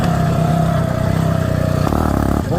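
A Phantom 85cc true engine kit fires up and settles into a loud, steady, buzzing idle close by, with a slight shift in tone near the end and no talking.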